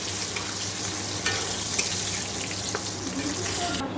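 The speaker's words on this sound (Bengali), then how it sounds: "এদিকে দেখো এই পটলগুলো ভাজা হচ্ছে পটল চিংড়ির জন্য।" Pieces of pointed gourd (potol) fry in hot oil in a home kitchen for a potol-shrimp dish. A steady, close sizzle and crackle runs throughout, with a few sharper pops and faint clinks.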